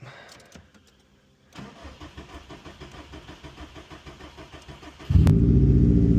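A 2018 Subaru WRX STI being started: a short pause, then about three and a half seconds of rhythmic starter cranking before the engine catches and settles into a loud, steady idle, close up.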